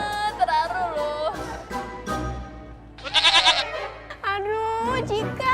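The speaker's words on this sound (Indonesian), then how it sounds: "Itu suara biola atau suara kambing?" Someone plays a violin badly at home, drawing wavering, scratchy notes that sound like a goat bleating, in several uneven bursts with a shrill, tight squeal near the middle.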